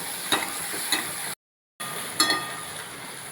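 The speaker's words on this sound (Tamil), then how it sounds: "நம்ம முகத்தை கொஞ்சம் தள்ளி வச்சுக்கிட்டு தீயையும் கொஞ்சம் நிதானமாக வச்சுக்கிட்டு அதை வெதுப்பலாம் வதக்கலாம்" Green peppercorns sauté in hot oil over a low flame, giving a steady sizzle with a few sharp stirring scrapes and a brief silent gap midway; no talking.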